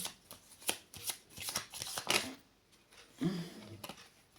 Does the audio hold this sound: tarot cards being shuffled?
yes